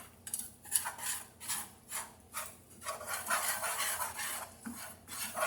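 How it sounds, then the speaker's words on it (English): A whisk beats flour into sausage gravy in a pan, making quick rhythmic scraping strokes against the metal that speed into a steady, close swishing. "I'll take my whisk and I'll whisk it all up to make it combine with that sausage"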